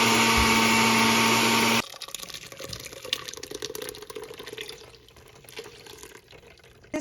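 A loud blender whirs for a couple of seconds and stops, then water trickles and splashes steadily onto blended pineapple, cucumber and lemon juice, fading softer toward the end.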